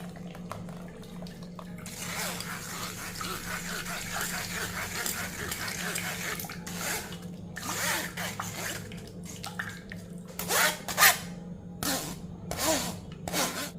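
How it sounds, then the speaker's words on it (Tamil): Blended vegetable soup being pushed and stirred through a metal sieve, giving close, uneven scraping and wet rubbing strokes that come in bursts, louder toward the end, with a steady background hum. "இதை வந்து ஜல்லடையில் நிறுத்துருவோம்"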